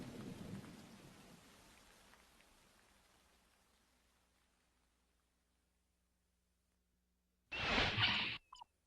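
Rain and thunder from a storm sound effect in a Star Trek audiobook, a rumbling wash of rain that fades away to near silence, then a sudden loud thunderclap bursts in near the end.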